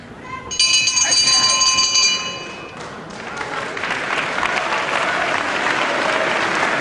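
Ringside bell at a televised professional wrestling bout, a loud ringing clang for about two seconds that fades into sustained crowd applause and cheering, with a commentator's voice faintly beneath.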